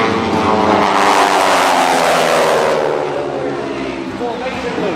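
The propeller planes of the Aeroshell Aerobatic Team roar loudly overhead at an airshow, their engines swelling and then slowly fading as they pass.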